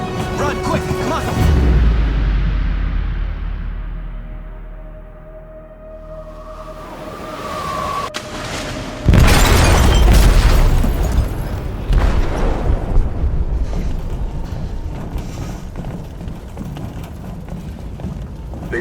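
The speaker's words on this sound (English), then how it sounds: "They detonated an explosive in the hold. The ship is sinking, sir." A deep, heavy blast detonates in a ship's hold, bursting loudly after a period of rumbling and whooshing, then leaving a long roaring rumble as the vessel begins to sink, with voices heard around it.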